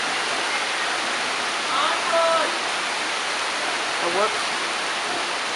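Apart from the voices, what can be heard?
heavy tropical rain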